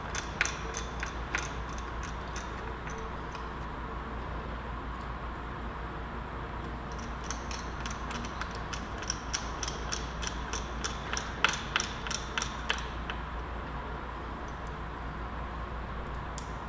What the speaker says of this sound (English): we'll put the screws back in